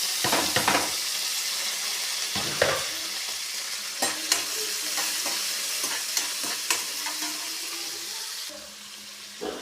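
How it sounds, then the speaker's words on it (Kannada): Mustard seeds, cumin, curry leaves and chopped onion fry in hot oil for a palya, a steady sizzle broken by sharp crackles and stirring clatter, close and continuous. "ಎಣ್ಣೆ ಕಾಯಕ್ಕೆ ಇಟ್ಕೊಂಡು ಇದಕ್ಕೀಗ ಸಾಸಿವೆ, ಜೀರಿಗೆ, ಕರಿಬೇವು, ಆವಾಗಲೇ ಕಟ್ ಮಾಡಿಟ್ಕೊಂಡಿದ್ದೆಲ್ಲ ಈರುಳ್ಳಿ"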